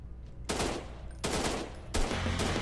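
Gunfire from the Dinosaur Forest video game, aimed at a dinosaur, comes as three loud bursts of rapid shots separated by short quieter gaps.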